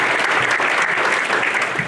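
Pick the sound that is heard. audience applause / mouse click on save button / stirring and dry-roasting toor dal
audience applause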